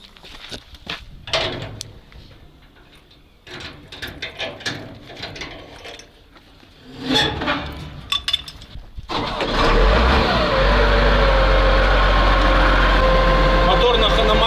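Clicks and mechanical rattling with some talk, then a Volvo tow truck engine cranks and catches, settling into a loud, steady rumbling idle for the final seconds.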